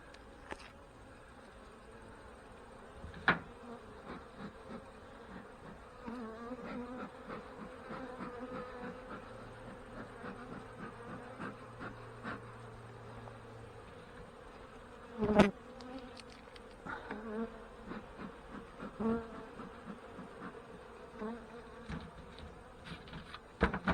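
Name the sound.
honey bees buzzing during a hive inspection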